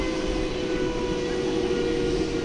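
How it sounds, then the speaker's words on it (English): An American Airlines Airbus A319, flight 1803 from McAllen, Texas, landing at DFW Airport at night, gives a steady, continuous broadband jet roar with a deep rumble, holding even throughout with no voices. "the next one to land is just about to do that. It's an Airbus A319, flight 1803, American Airlines"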